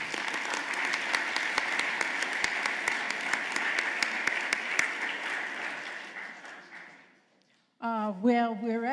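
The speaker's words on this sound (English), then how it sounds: "Let's give her a round of applause." An audience at a Denver mayoral candidate forum applauds the minister after her closing words, with dense, sustained clapping that fades away before a speaker's voice returns at the end.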